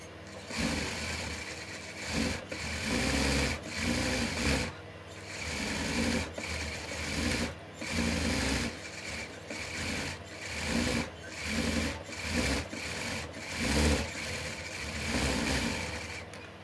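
A sewing machine stitches piping for a blouse in repeated bursts of rapid mechanical whirring, several seconds long, separated by brief pauses. It is close and fairly quiet, with no talking.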